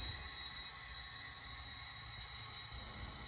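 A Santa Fe passenger train idles at the Fort Worth passenger terminal in a train simulator game, giving a steady low rumble and hum with a faint high whine, continuous and even throughout.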